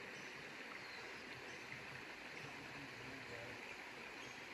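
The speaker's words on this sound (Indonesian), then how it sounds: "duduk di sini sambil menikmati sungai di depan sana" River water flowing steadily near a riverside picnic area, a constant soft rushing wash with no breaks, fairly faint and even throughout.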